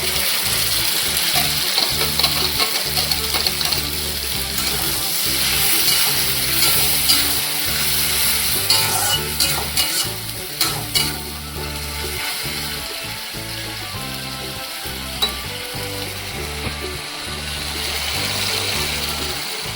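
Onions fried until lightly browned, now with ground spice paste added, sizzle steadily in a pan for ghugni, with stirring scrapes and clinks running through the continuous close, fairly loud frying.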